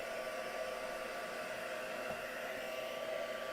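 A hair dryer blows steadily on a Halloween craft piece, a constant close whooshing whir that runs unbroken throughout with no voices over it.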